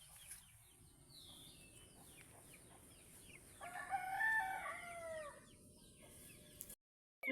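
Chickens on a rural farm yard clucking while a rooster crows loudly in the middle, set against a constant outdoor buzz of insects, ending in a brief silence.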